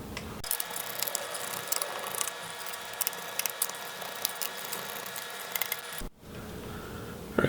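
Small Torx screws are worked loose with a 2.5 driver on an HP Envy x360 15 laptop, giving a close, steady ratcheting rasp with dense clicks that runs for about six seconds and then stops abruptly.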